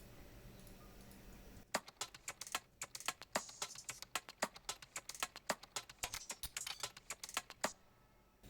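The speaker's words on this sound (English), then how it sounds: "There is one percussion loop called keyboard typing" A keyboard-typing percussion loop: after a quiet start, rapid keyboard clicks in a busy, rhythmic pattern, close and crisp, then stops abruptly near the end.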